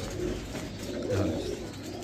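Soft pigeon cooing nearby, a low throaty coo rising briefly in the middle over quiet room background.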